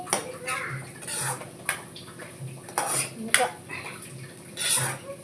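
A lid set onto a pot of carrot fry, with several clattering metal knocks and clinks of cookware over a soft background, close by and fairly loud.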